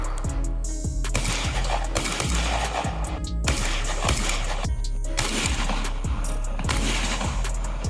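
Rapid shotgun blasts from an SDS Lynx 12 AK-style semi-automatic shotgun, loud sharp reports fired in quick strings throughout with short pauses, no talking.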